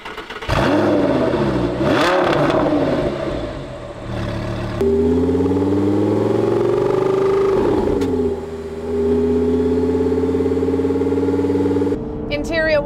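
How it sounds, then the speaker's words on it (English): A first-generation Audi R8 engine on a drive, pulling up through the gears with rising and falling revs, then holding a steady cruising drone before easing off. "let's take it for a drive"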